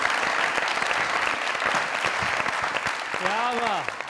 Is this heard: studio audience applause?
yes